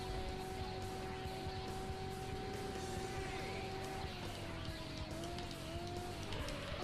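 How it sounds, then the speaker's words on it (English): A steady, droning engine note from a Mazda RX-7 with an HKS exhaust in the GameCube racing game Auto Modellista holds level, then shifts pitch slightly, with a constant hum beneath. "Can you hear my HKS exhaust on my RX-7?"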